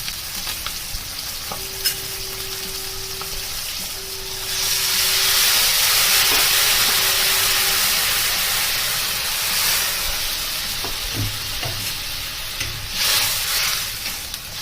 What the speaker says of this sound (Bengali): মাছগুলো বেশি ভাজবো না, এবারে এর মধ্যে জল দিয়ে দিচ্ছি।